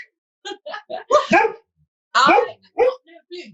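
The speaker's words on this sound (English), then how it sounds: "That's my dog." A dog barks in short bursts close by, mixed with a voice and a voice talking over and between the barks.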